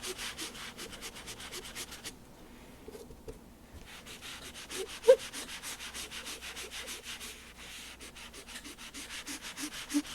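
A Pan Pastel colorless blender rubs pastel colors together on paper, giving a steady, close, scratchy swishing in quick repeated strokes with a short pause midway.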